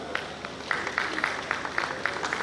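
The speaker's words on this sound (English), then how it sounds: "Can we just also give a round of applause for Mr. Larry Omojola?" Audience applause at the 31st Lagos Builders Conference in Lagos, a steady wash of many hands clapping with sharper individual claps popping through, moderately distant and sustained throughout.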